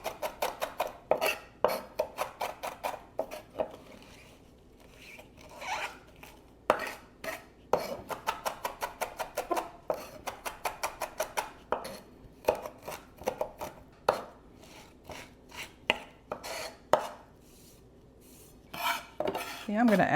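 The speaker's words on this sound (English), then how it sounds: "I'm going to work that into the garlic just with the edge of the knife." Knife edge scraping and pressing garlic with kosher salt on a cutting board for basil pesto: rapid, irregular clicking scrapes in bursts with brief pauses, close and fairly crisp, with no talking.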